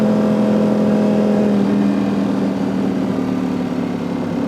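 A loud, close superbike engine running with a steady droning hum that holds and slightly drops in pitch, no voices.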